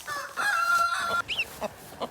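A hen clucks near the microphone in a farm setting, giving a drawn-out call followed by several short, separate clucks with brief gaps between them.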